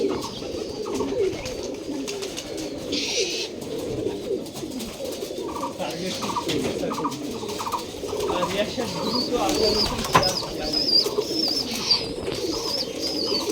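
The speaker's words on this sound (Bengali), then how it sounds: "আর এখানে এক জোড়া কবুতর আছে" A pair of giribaz pigeons kept in a disused courtyard coo steadily and softly throughout, with overlapping low murmuring calls at close range and faint chirps now and then.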